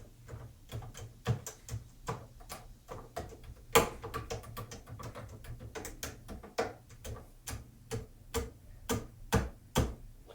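Key bed of a Nektar SE25 compact keyboard clicking alone with the audio muted, a steady run of close, sharp plastic clicks in an uneven playing rhythm over about ten seconds.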